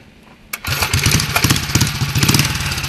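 A homemade mini chopper motorcycle engine starts up and runs, its loud, close, rapid-firing exhaust popping steadily, with no talk.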